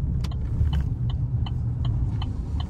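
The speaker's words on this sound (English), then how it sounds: "So we'll just let a couple of these cars go through." Cars passing along a road, a steady low rumble of traffic that stays loud throughout with no voices, faint clicking ticks repeating over the top.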